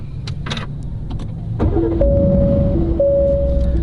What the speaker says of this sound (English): All right, let's start this thing up.